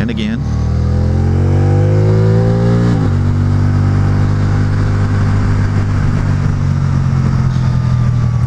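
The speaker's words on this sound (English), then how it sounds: "So that's me manually downshifting there" A Can-Am Spyder RT roadster's 1330cc three-cylinder, six-speed engine drones loudly as the rider manually downshifts, the revs dropping and then rising again in a steady roar, with a voice speaking over it.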